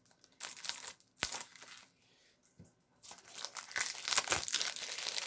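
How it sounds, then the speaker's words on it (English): Plastic shrink-wrap on a sealed collector's edition Alex Kidd card deck is cut with scissors and peeled away, giving close, quiet crinkling and tearing in irregular bursts with short pauses between. "Yes, look, collector's edition, and I'm unsealing it."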